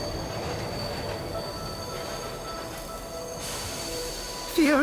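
A train rolling on rails as it pulls into a station, with a continuous rumbling roll and rattle, high metallic wheel squeals rising near the end, loud and close.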